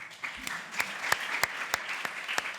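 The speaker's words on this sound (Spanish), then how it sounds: "Un aplauso para él." Scattered applause for a speaker at a talk on youth, privacy and living in a single room: a moderate, steady patter of claps with a few sharper individual claps standing out, fairly faint and without speech.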